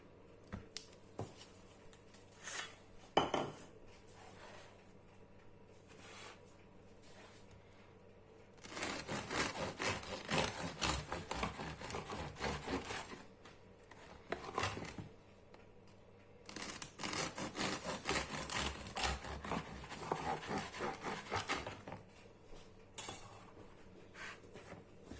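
A knife saws through a dense homemade loaf of bread baked from T45 flour with very little yeast, two long stretches of crunchy, scratchy crust-cutting strokes following a few quiet taps and clicks.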